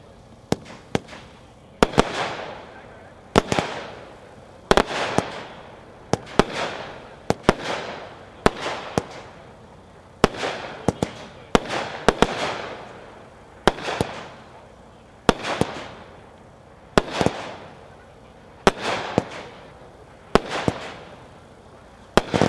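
Epic Serenity Jr. fireworks cake firing 25 shots in a steady rapid rhythm, each sharp launch pop followed by a crackling burst, loud and fairly close outdoors, with faint voices in the background.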